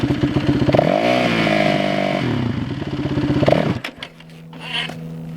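A dirt bike engine revs hard with the clutch engaged, a loud buzzing drone that climbs, holds and wavers, then drops away near four seconds to a low idle with faint clatter.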